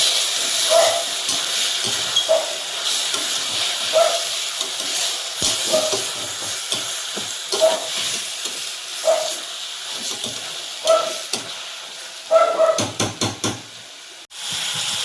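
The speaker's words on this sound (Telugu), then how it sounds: "చికెన్ కడుగు పెట్టుకున్న చికెన్ ఇప్పుడు వేద్దాం. వేసి ఫ్రై చేసుకుందాం." Washed chicken pieces sizzle and hiss steadily in a hot pan for chicken pulao, a continuous close fry with faint scraping stirs now and then and no speech.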